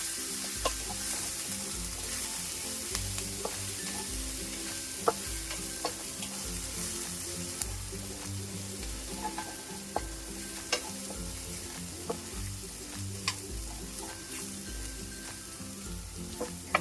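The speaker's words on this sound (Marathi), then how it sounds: "ठेचा आपण 1 मिनिटवर परतून घ्यायचा आहे." Thecha chili paste sizzles and fries in a pan while being stirred, a continuous crackling hiss with scattered pops and scraping stirs throughout.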